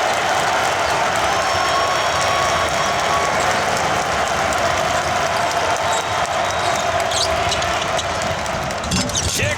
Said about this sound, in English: now this Rutgers crowd back into the game at Jersey Mike's